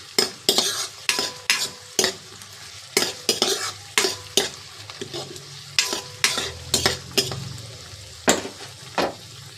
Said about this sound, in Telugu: శుభ్రంగా కడిగి పెట్టుకున్న కరివేపాకు వేసి బాగా కలపాలి